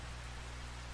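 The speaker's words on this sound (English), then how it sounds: "it's raining" Steady rain falls in the Farming Simulator 22 game, a soft even hiss with a low hum beneath, faint and continuous with no voices.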